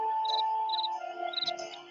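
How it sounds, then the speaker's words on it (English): A chirping glowworm in a video game, giving a faint, steady insect-like trill with repeated short high chirps over a low sustained hum, heard alone. "Ah, a chirping glowworm."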